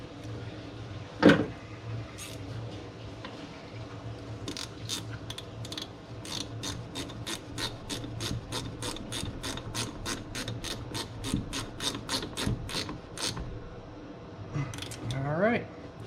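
A ratchet tightens the negative battery terminal on a Toyota Tundra in a run of quick, evenly spaced clicks, close and crisp, with a clunk before and a brief whir at the end. Talk runs underneath.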